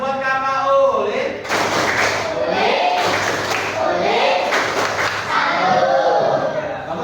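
A group of children does a rhythmic clapping cheer, several quick claps with chanting voices over them, fairly loud and close.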